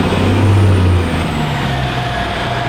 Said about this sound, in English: let this truck go by